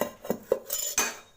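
A cooking pan is set down while making a chapati fry masala, giving a few sharp metallic clanks and knocks close by with short ringing tails and no voices.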